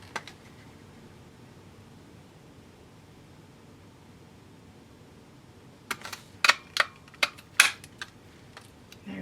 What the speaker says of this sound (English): now I'm just going to punch out the larger flower, just making sure that it lines up